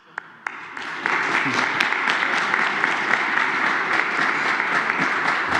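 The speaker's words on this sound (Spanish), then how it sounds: "Un aplauso." Applause rises from a crowd at a Mexican presidential press conference after two sharp claps, then sustained clapping of many hands continues steadily, loud and dense.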